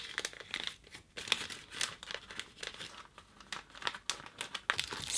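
Cellophane being rolled into a small tube for protea flower paper art, close crinkling and crackling in quick irregular bursts, loud and sharp with no speech.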